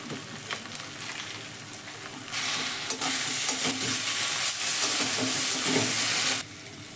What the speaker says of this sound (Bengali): জিরা গুঁড়ো দিলাম ধনে গুঁড়ো চাট মশলা মশলাগুলো কষে নেব